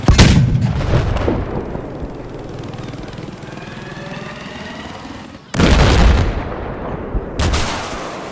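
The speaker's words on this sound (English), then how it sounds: "we had to test out the cannon on infantry" Two loud, booming naval cannon shots in Battlefield 4, fired at infantry, each followed by a long rumbling decay, the second blast arriving several seconds after the first.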